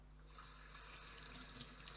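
Water runs steadily from a kitchen tap while salted fish is rinsed under it, a constant close splashing rush with slight flutters as the flow hits the fish, no voices.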